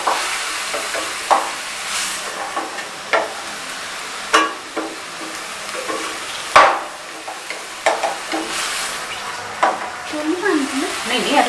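Onions fry with salt and chili over a high flame, a soft sizzle broken by repeated sharp clicks and scrapes of a spoon stirring against the pan.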